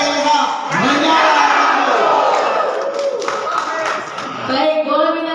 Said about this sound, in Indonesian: Baik, boleh minta tepuk tangan yang meriah untuk paslon nomor urut 3.